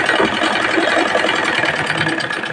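Sewing machine stitching fabric frills, a loud, close, continuous mechanical whir and rapid needle rattle running without pause.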